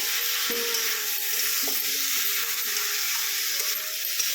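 Kohlrabi and new potatoes sauté in a pan with a steady broadband sizzle, interrupted by occasional scraping stirs and faint clinks, close and fairly loud.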